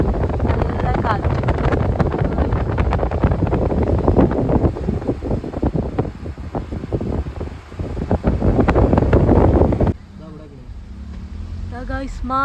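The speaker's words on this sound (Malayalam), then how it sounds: "നല്ല കാറ്റ്." Strong wind buffets the microphone of a car slowly driving on a road trip from Malappuram toward Hassan, a loud rushing roar that suddenly drops to quieter cabin noise near the end.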